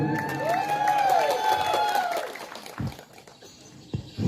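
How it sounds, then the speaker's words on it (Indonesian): Crowd at a Dayak customary gathering in Kotawaringin Barat claps and cheers loudly for a couple of seconds, with whoops over the applause, which then fades into scattered claps and murmuring. "Tepuk tangan."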